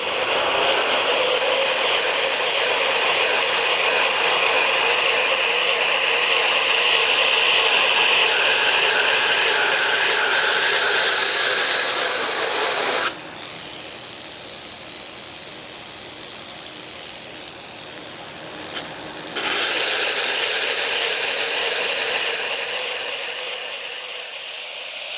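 A 2x72 belt grinder runs a 1200 grit belt while a knife blade is sharpened, a loud continuous whirring hiss that dips briefly midway as the blade lifts off, then resumes and slowly fades.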